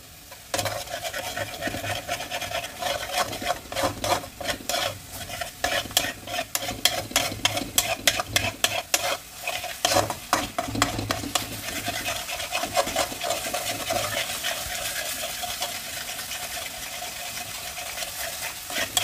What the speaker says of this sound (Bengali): এবার এটাকে আমি ভালোভাবে কষে নেব।